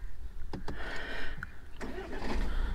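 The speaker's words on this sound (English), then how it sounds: "let me just start the car for you" A Tata Harrier diesel engine cranks and fires with a few sharp starter bursts, then settles into a steady, close idle hum.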